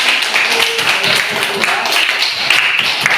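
Classroom of students clapping hands together, a dense, fairly loud burst of claps with children's voices chattering over it.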